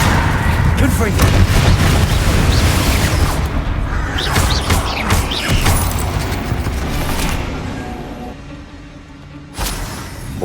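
Loud blasting spell effects from Confringo cast in the video game Hogwarts Legacy, booming explosive bursts and rumble in a catacomb setting, densely layered for several seconds before fading, with a voice speaking.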